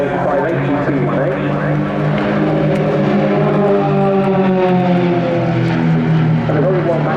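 An Extra 330LX aerobatic plane with a 315 hp Lycoming AEIO-580 engine and a four-blade propeller drones loudly at an airshow. Its propeller tone rises and falls in pitch while someone talks over it.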